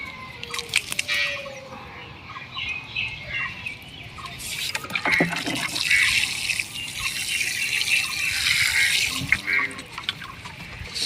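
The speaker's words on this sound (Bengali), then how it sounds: "আর দেখবেন জল দেবো সুন্দরভাবে জল বেরিয়ে যাবে।" Water poured into a freshly potted camellia, soaking through the soil and draining out below: a steady close trickle and splash that swells in the second half, with birds chirping faintly outdoors.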